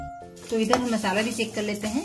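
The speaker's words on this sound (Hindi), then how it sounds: "तो आप सुन सकते हैं इसमें चिटचिट की आवाज आने लगी है" Masala spices roasting in a pan while making a green garlic pickle, crackling and sizzling softly near the mic with a few stirring clinks, while a person talks over it.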